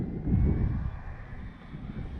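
An Arrows RC Bigfoot model airplane flies in to land, its electric motor a low droning buzz that swells briefly near the start and then fades as it passes, with light wind noise and no talk.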